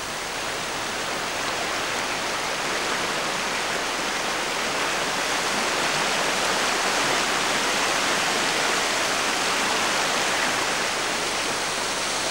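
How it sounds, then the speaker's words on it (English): Water rushes steadily along a stream carrying sand grains down from granite uplands toward the beach, a loud, continuous broadband wash with no pauses and no voices. "it's water like this in streams and rivers that's responsible for moving all these grains"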